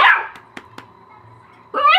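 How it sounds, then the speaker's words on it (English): A dog barks at close range, one sharp yelp at the start and another at the end, with a few softer clicks and a quiet pause in between. "What are you barking at?"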